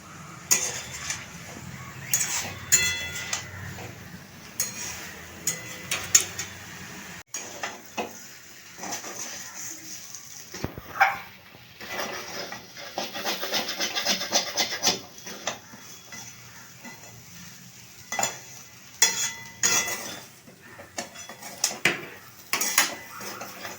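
Metal utensil scraping and clinking against a pan while a ghee and black pepper dish is stirred over low flame, with steady irregular scrapes and taps up close and no talk.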